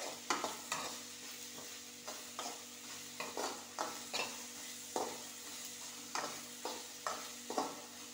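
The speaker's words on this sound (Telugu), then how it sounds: "ఇలా కాసేపు వేపాలి." Ginger garlic paste fries in a pan, a soft sizzle under regular scraping strokes of a spatula stirring about once a second, close and fairly quiet.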